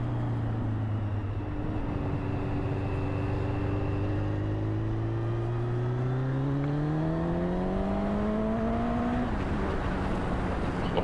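A Suzuki GSX1400 motorcycle pulls hard in top gear, its engine note droning low and steady before climbing smoothly in pitch over several seconds as it gains revs, loud and continuous with no talk.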